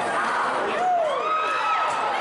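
A wrestling arena crowd cheers and whoops loudly and continuously, with rising shouts and whistles over a dense roar during a battle-royal style match.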